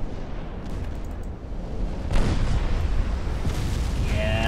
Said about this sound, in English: We might be looking at the destruction of an enemy battleship here.